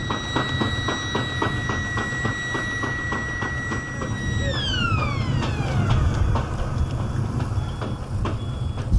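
A siren holds steady tones, then slides sharply downward in pitch over a constant rumble of traffic and rhythmic clicking.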